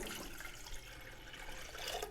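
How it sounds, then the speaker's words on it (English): Hot water from an electric kettle pours steadily into a heat-proof container, a continuous low, rushing liquid stream heard close and alone, with no talking. "so we're taking our water, pouring it into our heat-proof container."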